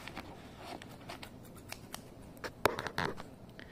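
Handheld scissors snip open the plastic packaging of a fishing lure, a couple of quick crisp cuts near the end against a quiet room with faint handling rustle.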